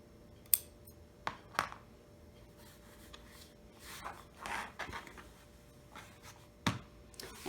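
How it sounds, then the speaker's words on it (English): Scissors snip stray threads off a freshly sewn cloth napkin, giving a few sharp, quiet clicks spaced irregularly among soft fabric rustling, close up with no talking. "clipping all the extra threads, you have completed your project"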